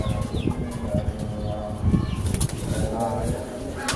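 A large male pigeon coos and flaps its wings up close, brief wing flutters mixed with low cooing under background noise.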